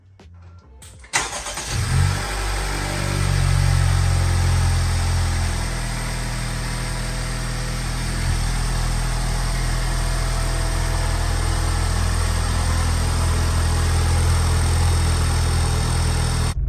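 A 2021 Honda Civic FK8 with a freshly installed intercooler cranks briefly, fires up with a loud surge, then settles into a steady, close, rumbling idle that holds for the rest of the clip.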